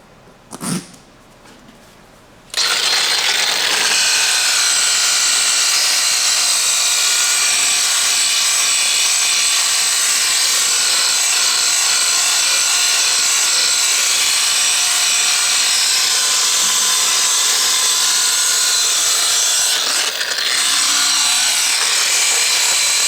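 A rotary sander runs steadily and loudly at close range after a brief start, its whine holding for about twenty seconds before a heavy load bears down and the brake pulls it to a stop near the end.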